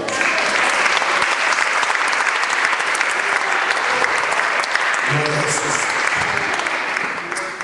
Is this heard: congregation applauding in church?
yes